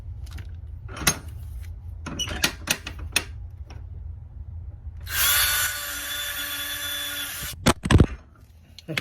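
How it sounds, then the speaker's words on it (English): A power drill bores holes into a garage door during a roller repair, with one sustained whining run in the middle, and shorter clunks and clicks before and after. "Okay, we got both holes drilled. Got both holes drilled now."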